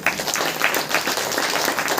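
Church congregation clapping their hands in rhythm during a Saturday worship meeting; dense, rapid claps from many people fill a short stretch, fairly loud and steady.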